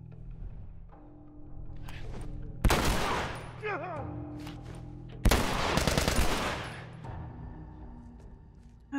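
Pistol gunfire in The Last of Us Remastered: two loud sharp shots several seconds apart, each trailing into a brief ringing tail, over a low steady background hum, with a short sound at the very end.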